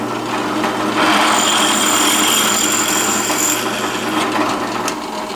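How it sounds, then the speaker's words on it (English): A drill bores a 5/16 inch hole through clamped, lubricated aluminum, giving a steady loud whirring cut that holds for several seconds before easing off at the end. "Now I need to drill this 5/16 inch hole"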